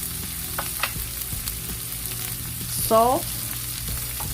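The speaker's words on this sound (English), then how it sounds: "I have my oil heated up. I'm gonna add onions along with peppers." Onions and peppers fry in hot oil in a skillet with a steady, fairly loud sizzle and a few light utensil taps; a voice briefly speaks over it.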